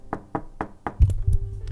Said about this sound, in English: The prince knocked.